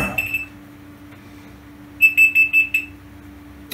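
A beeping alarm clock pulses in quick bursts of high electronic tones, a short pair early on and a rapid run of several beeps later, over a steady low hum.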